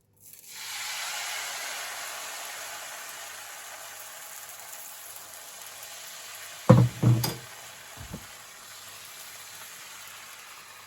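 Spinach and oats crepe cooking in a pan, a steady soft sizzle running throughout, with a few brief louder scraping or clattering knocks near the end.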